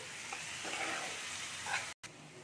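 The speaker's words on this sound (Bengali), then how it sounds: "আলুগুলো দিয়ে মশলার সাথে ভালো করে কষে নেবো আর একটু" Fried potatoes stir-fried with spice paste in a pan, a soft continuous sizzle with gentle scraping strokes of a spatula, close, with a brief cut to silence near the end.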